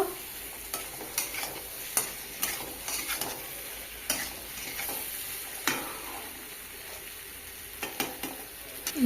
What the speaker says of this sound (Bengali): ভেজে রাখা আলু দেওয়ার পরে একটু কষিয়ে নেব।